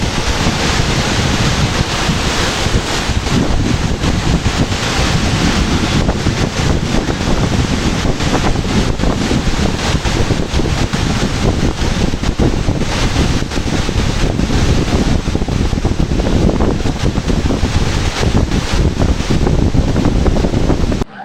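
Excess water pours through the gates of the Himayat Sagar and Osman Sagar dams, a loud, dense, unbroken roar of rushing water with heavy wind buffeting the microphone.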